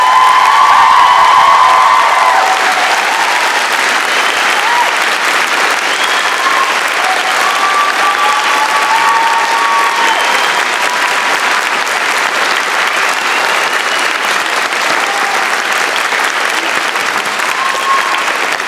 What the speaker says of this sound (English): Graduands, a round of applause.